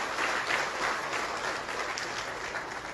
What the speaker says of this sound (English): Let's now clap for the learners.